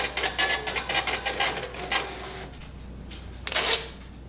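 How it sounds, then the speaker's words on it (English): A kitchen impact printer prints a receipt, loud rapid rasping bursts of the print head pulsing in quick succession for about two seconds, then a lull and one more short harsh burst near the end. "So it prints out and it makes a lot of noise"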